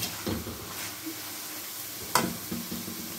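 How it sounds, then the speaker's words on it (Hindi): Chicken frying in a pan with salt and black pepper, a steady soft sizzle with occasional scraping clinks of a spoon stirring it, fairly close and moderately quiet. "ये अच्छी तरह हमारा चिकन भुन चुका है।"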